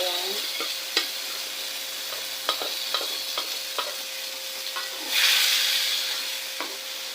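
Mung beans with pork sautéing in a pan, a steady sizzle broken by sharp scrapes and clacks of stirring, with a brief louder hiss of steam partway through; no one talks.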